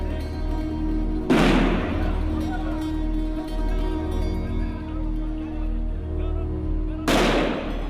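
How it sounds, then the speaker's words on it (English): Two loud stun grenade blasts from Israeli soldiers holding back young Palestinians in the West Bank, the bangs about six seconds apart over a steady low rumble. "Israeli soldiers have kept the young Palestinians at bay with sound grenades."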